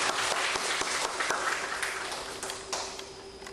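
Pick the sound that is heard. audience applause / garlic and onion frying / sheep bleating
audience applause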